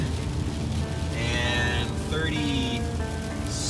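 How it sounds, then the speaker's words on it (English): Steady heavy rain drums on a vehicle during a drive through stormy weather, a continuous loud hiss with road rumble underneath and a brief spoken word partway through. "Right now, as you can see, it's just solid rain"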